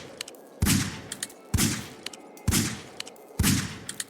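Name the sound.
gunshots at robots in video game Beacon of Neyda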